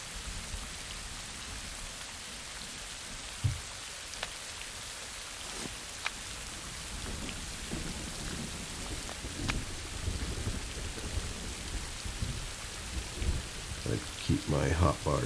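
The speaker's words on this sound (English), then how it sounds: "so we can get out of the rain for a little bit here." Rain pours steadily in the survival game Rising World, a constant soft hiss of falling water with scattered heavier patters and occasional low thumps and movement sounds toward the end.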